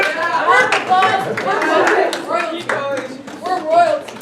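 Scattered hand clapping from a small group at a university gathering tied to Northwestern, mixed with overlapping chatter and laughter; the claps are close and uneven, partly masked by voices.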